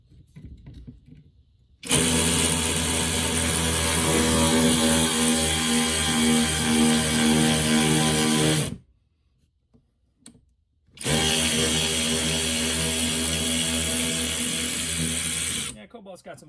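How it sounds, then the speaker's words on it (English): A Cobalt 3/8-inch cordless ratchet runs in two sustained, loud whirring bursts of about seven and five seconds, separated by a brief pause, close up with almost no background noise. "let's give you the 3/8 ratchet for Cobalt"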